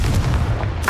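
The Confringo fire spell bursts in Hogwarts Legacy, a loud, dense rumbling blast that fills the moment with heavy low booms and crackle, ending in a brief sharper flare.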